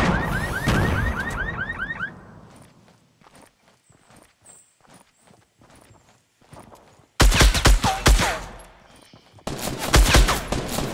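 Video game crossfire gunfire, with rapid burst shots opening loudly, then scattered footsteps and softer single shots, before loud, dense firing returns in the last few seconds.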